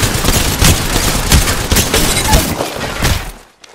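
Rapid bursts of gunfire in the video game Apex Legends crackle loudly and densely for about three seconds, then stop abruptly.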